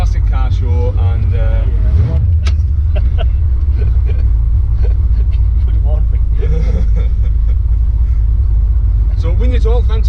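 Deep, rumbling idle of a roof-chopped V8 Ford Consul hotrod at a classic car show, a steady low throb running throughout, with people talking over it.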